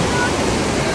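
Glacier meltwater pours down a waterfall in Naran valley as a steady, close, full-band rush of falling water that holds constant through the whole short moment.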